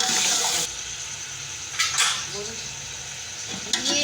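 Boiled beef trotters stirred and fried with onion, ginger and green chilli in a pan, a continuous sizzle broken by scraping spoon strokes and clinks of metal against the pot.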